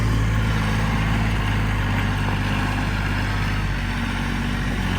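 A tractor engine running steadily during a one-day spring landscape cleanup, a loud continuous close drone with no talking.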